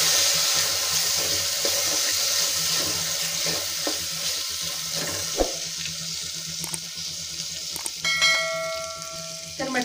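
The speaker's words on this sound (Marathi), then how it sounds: "मटकी अशा पद्धतीने मी तेलामध्ये फिरवून घेतली आहे" Moth beans (matki) stir-fried in oil in a pan for misal pav, a steady close sizzle with scraping stirs, a few louder clinks and splashes near the end, no talking.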